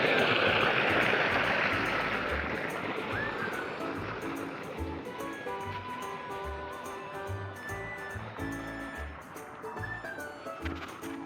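Water gushes loudly and steadily after a tank valve is opened, a broad rushing flow that eases slightly over time, with faint intermittent tones and knocks beneath it.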